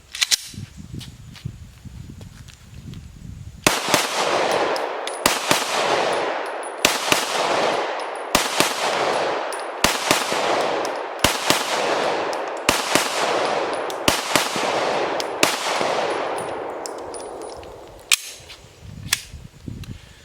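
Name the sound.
gunshots from a Lipsey's Glock P80 retro pistol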